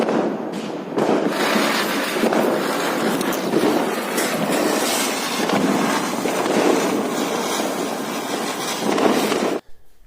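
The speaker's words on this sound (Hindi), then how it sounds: "बहुत सारे पटाखे हमने छुड़ा लिए हैं" Dense, continuous crackling and popping of Diwali firecrackers set off outdoors, loud and close, with rapid bursts overlapping for several seconds before stopping abruptly.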